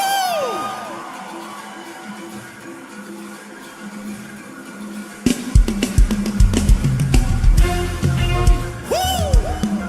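A worship crowd at a revival service claps and shouts, with a dense, loud burst of clapping, cheers and whoops that swells after a quieter opening and then continues.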